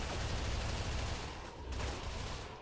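Gunfire in the shooter GoldenEye Source: a dense, continuous burst of rapid shots merging into a rough roar, dipping briefly midway before resuming, at moderate distance with no voices.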